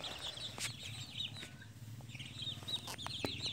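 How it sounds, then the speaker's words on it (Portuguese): Chickens at a backyard poultry coop, including a young rooster, a pullet and a speckled bearded hen, cluck softly and intermittently at a low, distant level, with faint higher calls over a quiet background. "o frango e a franga da rifa e a galinha barbuda pintada"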